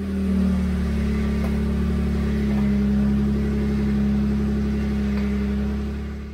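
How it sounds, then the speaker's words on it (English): A Jeep engine runs steadily near at hand as the steering is turned back and forth while checking a steering box fault, a loud even rumble with a slight rise in the middle and no voices. "So we'll go ahead and start up the Jeep and cycle the steering so you can witness exactly what's happening."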